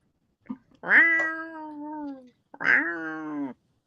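Two long, loud meows from a cat close by, each drawn out with a rising then falling pitch, separated by a short pause.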